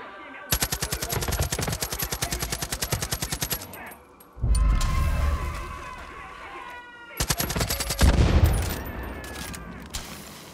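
Rapid automatic gunfire in the video game Far Cry 5, a long burst of closely spaced loud shots, then a heavy blast, then a second burst of shots with another boom near the end.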